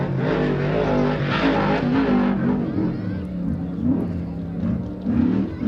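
Off-road race vehicle powering through a rhythm section of bumps on a track, its engine a steady, loud drone that rises and falls with throttle, heard continuously with a commentator's voice over it.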